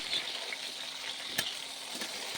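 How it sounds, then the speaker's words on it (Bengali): Green beans fry in a pan with salt and turmeric on an induction cooktop, a soft, continuous sizzle at low level with one brief louder crackle, no talking. "শিমটা দিয়ে লবণ আর হলুদ দিয়ে ভালো করে ভেজে নেব"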